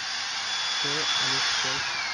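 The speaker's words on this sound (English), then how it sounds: "The paper is getting absorbed by my vacuum cleaner." A steady, loud broadband whoosh of a vacuum cleaner running close by, with a few brief voiced sounds faintly underneath.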